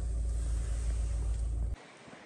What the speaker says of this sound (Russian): Сейчас автомобиль запущен, двигатель работает идеально, никаких лишних шумов нет.